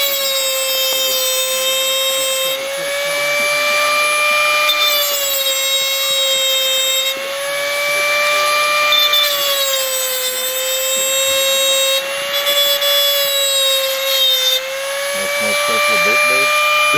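A Dremel rotary tool fitted with a 420 bit cuts during a carving demonstration, giving off sparks. It makes a steady, close, loud high-pitched whine that dips briefly in pitch several times under load, running continuously throughout.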